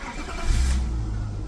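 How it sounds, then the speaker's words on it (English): A cold 1990s BMW 328i E36 straight-six cranks once and catches, the start swelling briefly into a rev before settling into a steady close idle, with no talk. "Let me start the car."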